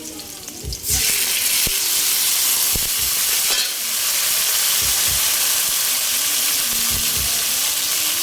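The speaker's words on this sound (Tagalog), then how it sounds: "lalagay ko na ang kamatis." Tomatoes drop into a hot pan of garlic, ginger and onion for catfish sinigang, setting off a loud, steady sizzle and hiss that fills the whole stretch, with a few stirring clanks.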